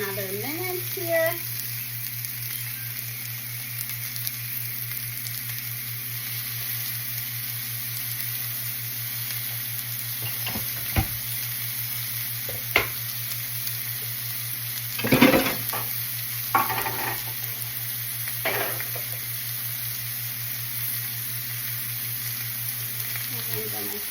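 Pork chops fry in a pan with a constant loud sizzle and hiss, broken by a few clattering knocks and scrapes as they are turned.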